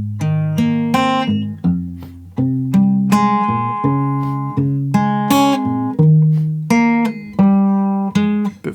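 Fingerpicked acoustic guitar plays the opening two bars of a song, a clear, close melodic line of plucked notes with a steady pulse and ringing sustain, with no talking.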